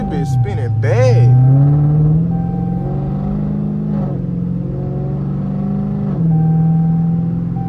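Dodge Challenger Scat Pack on bald tires, engine droning steadily with rising revs as the wheels spin on a cold road, a close sustained roar with voices talking over it at the start.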